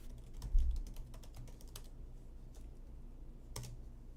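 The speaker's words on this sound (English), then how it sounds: "all I'm going to do is type in my Apple ID" Quiet keystrokes on a computer keyboard as an Apple ID is typed in, a sparse run of light clicks spread over a few seconds, close but faint against low room hum.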